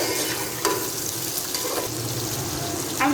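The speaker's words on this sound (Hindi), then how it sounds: "1 मिनट के लिए इसको भी अच्छे से फ्राई कर लेते हैं मिर्चों को" Chopped green chillies fry with okra in a hot pan, a steady soft sizzle with occasional stirring scrapes and clinks.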